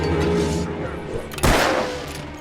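Gunfire in the video game Alan Wake Remastered: one sharp, loud shot bursts out over a steady ambient game bed with some low background noise, then tails off.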